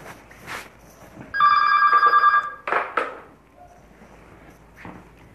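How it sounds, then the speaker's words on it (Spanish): A telephone bell rings loudly in one rapid trilling burst, followed by a few clattering knocks and handling noises, no talk. "Disculpe un momento porque está sonando el teléfono."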